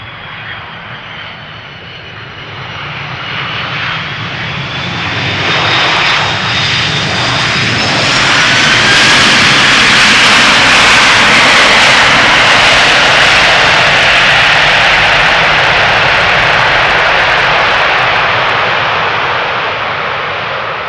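An eight-year-old Airbus A330 lands at Schiphol Airport after a long-haul flight, its engine roar swelling loud as thrust reversers spool up and then holding a sustained, close, rushing jet roar.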